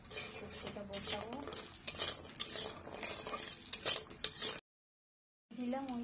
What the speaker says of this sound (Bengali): যে বড়ি ভাজা চলছে, লাল লাল করে বড়ি